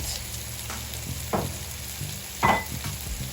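A grilled Cornish hen coated in herbs sizzles after being flipped: a steady close hiss with a few sharper crackles and stirring knocks, no talking.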